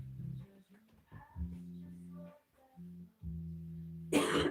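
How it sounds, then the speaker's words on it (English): A single harsh cough bursts out at the end, loud and close, after a stretch of low humming voice sounds. "I have to cough."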